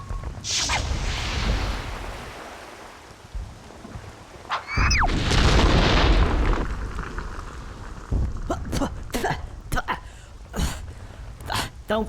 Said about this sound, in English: A Teddy Funkin U-47 intercontinental ballistic missile